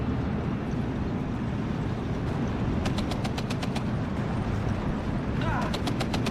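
Bursts of rapid .50 cal machine gun fire in the WWII strategy game Steel Division 2 rattle over a dense, constant roar of battlefield noise, with two quick volleys near the end.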